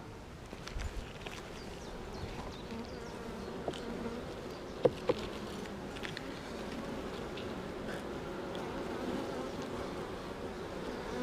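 Honey bees buzz steadily around an open hive during a spring inspection, a constant close drone with occasional soft clicks and knocks of frames.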